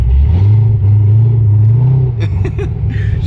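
A loud cammed Corvette engine rumbles deeply at close range, holding a lumpy, choppy idle before a few quick revs surge up and drop back.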